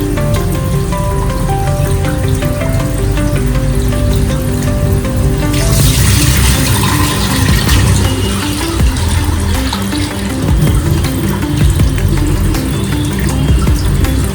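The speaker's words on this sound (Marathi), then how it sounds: "अशा प्रकारे स्वच्छ पाण्याने आपण 2-3 वेळा धुवून घेऊया" Basmati rice is rinsed in clean water while making homemade rice kheer, producing continuous close splashing and swishing of water with a fuller surge of pouring midway.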